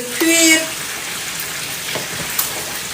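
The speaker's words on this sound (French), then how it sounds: "Ça c'est notre riz qui est en train de cuire" Rice cooks in a pan with a soft, steady sizzle and bubbling, opening with a brief tonal beep and a faint click near the end.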